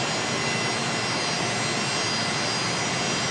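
Rex regional airliner departing Brisbane Airport at sunset, a steady broad engine roar at moderate distance, unbroken and without voices.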